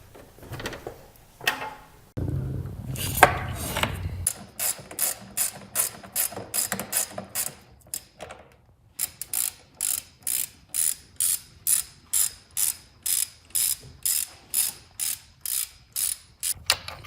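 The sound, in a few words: ratchet removing nuts to take off engine air cleaner box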